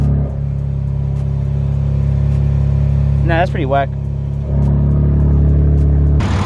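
A Nissan 350Z running on E85 with a changed intake manifold idles with a steady, loud low rumble, and a person speaks briefly over the engine partway through.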